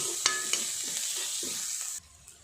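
Ginger garlic paste frying in a pan for aloo capsicum curry, a close, steady sizzle with a few spoon stirs and scrapes, the frying sound dropping away near the end; no talking.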